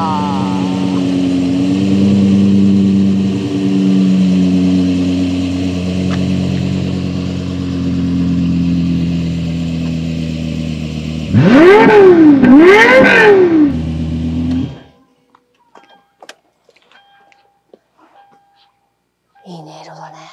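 A powerful Lexus LFA sports car engine starts and revs in two sharp rising-and-falling bursts over a steady idle, then cuts off into near silence with faint clicks.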